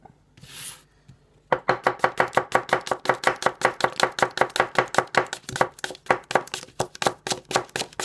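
A Takamura Chromax santoku knife slices food thinly on a board in a fast, steady run of crisp chops, close and loud after a short soft rustle at the start.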